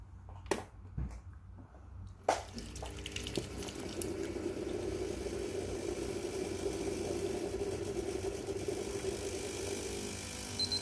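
Breville Barista Pro espresso machine pulling shots, a couple of sharp clicks and then a steady pump hum with a buzzing drone that runs continuously to the end.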